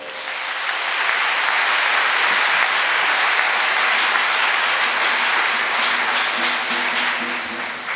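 A church congregation applauds a priest's silver jubilee, the steady, dense clapping of a large crowd holding for several seconds before easing off at the end.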